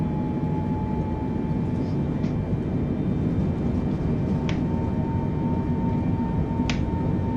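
Boeing 747 engines spooling toward full throttle on a takeoff roll in a flight simulator, a steady loud droning roar with constant tonal whine and a few faint clicks.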